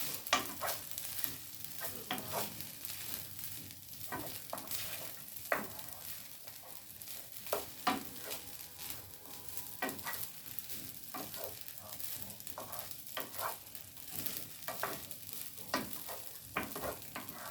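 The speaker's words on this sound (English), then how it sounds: "you're going to mix your rice into it" Rice stir-fried with egg, bacon and caramelized soy sauce in a hot pan over a well-adjusted flame: a steady, close sizzle broken by frequent sharp scrapes and clacks of the spatula, with no talking.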